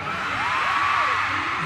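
A crowd at a live concert-room tour performance screams and cheers loudly and steadily, with a rising, wavering shout standing out above the massed voices.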